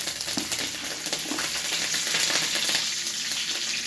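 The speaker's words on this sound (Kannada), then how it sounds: "ಈಗ ಕರಿಬೇವಿನ ಎಲೆಯನ್ನು ಸೇರಿಸ್ಕೊಳ್ತಾ ಇದ್ದೇನೆ." Curry leaves crackle and sizzle loudly in hot oil alongside garlic and mustard seeds, a dense, steady spitting hiss that fills the whole stretch, close up and with no talking.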